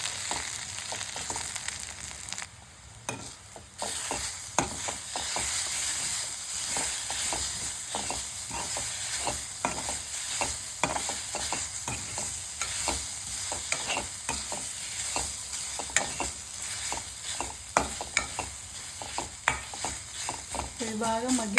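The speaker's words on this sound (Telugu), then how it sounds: "అడుగంటకుండా బాగా కలుపుకొని ఉడికించుకున్నామండి" Gongura pickle cooking in a pan, a constant sizzle and hiss with repeated scraping of a spoon as it is stirred, close and steady throughout.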